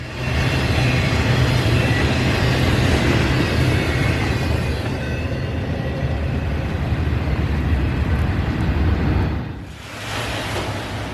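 A CSX freight train led by SD50 and SD40-2 locomotives rolls past in road service, a loud, steady rumble of engines and rolling cars that dips briefly near the end before resuming.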